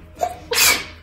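A single sharp human sneeze, short and close, with a quick intake followed by a forceful burst.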